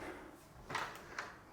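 A door inside a prefab ADU home is opened, giving two short sliding knocks about half a second apart, close by and fairly faint.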